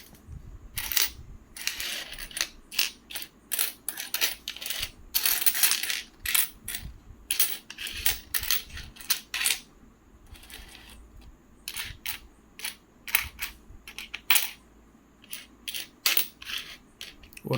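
Indian 2023 five rupee coins, minted in Kolkata, are dropped and counted in a steady stream of bright metallic clinks and jingles, close and crisp, with dense clusters of clatter broken by short pauses.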